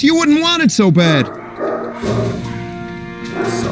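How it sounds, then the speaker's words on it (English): A dog barks and yips loudly in short bursts, mixed with a man's speech, followed by lower ongoing sound. "Sorry about my dog."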